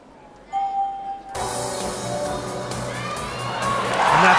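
Arena crowd at a women's all-around artistic gymnastics competition at the 2019 Universiade: a faint tone, then a sudden swell of cheering and roaring that builds steadily louder, with children shouting and whoops through a dense, continuous wash.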